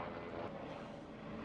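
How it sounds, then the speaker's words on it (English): Steady low mechanical drone of a helicopter flying laps overhead, a continuous rumble with wind buffeting, no clear rhythm, moderately loud throughout. "Oh, nice. A nice helicopter."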